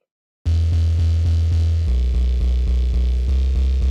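A deep, buzzy bass synth tone pulses in a steady repeating rhythm, then a smooth sine sub layer from a 3x Osc oscillator joins underneath and thickens the low end.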